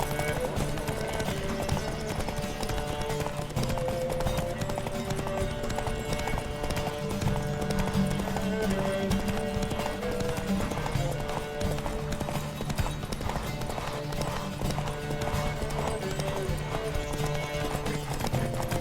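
Rapid, continuous hoofbeats of horses galloping at speed in a video game race in The Witcher 3, with occasional whinnies and snorts over a busy background of music and movement.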